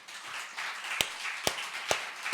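Clapping breaks out in a church during a sermon: four sharp, distinct claps at an even pace stand out over a quiet background.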